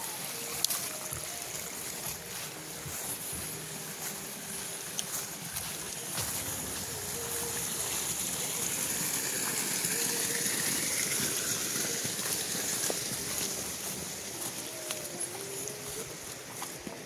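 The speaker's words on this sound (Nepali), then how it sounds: "पानी कति मजाले कुलोमा सरर कुदिराखेको छ" Water rushes along a village irrigation canal in the Nepali hills, making a steady outdoor gush and trickle that holds at an even level throughout, with faint background rustle.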